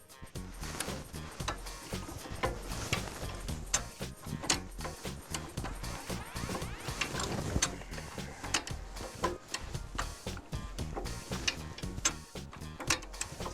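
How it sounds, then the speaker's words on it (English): A Terrain Tamer 4WD lift jack is lowered by pumping its handle, giving steady rhythmic metallic clicks and ratcheting clacks up close with no pauses. "Before we start moving the handle, we have to move the latch into the lowering position."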